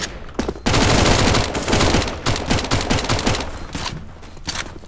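Rapid bursts of automatic gunfire in CS:GO during a competitive match, loud and dense, with rattling volleys broken by short gaps, no talking over it.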